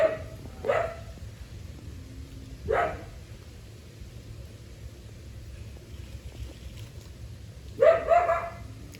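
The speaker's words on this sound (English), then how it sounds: "We definitely still hear the male barking, wondering where his companion is" A male coyote at a zoo barks in three short bursts spaced several seconds apart, moderately near, over a low steady background hum with no talking.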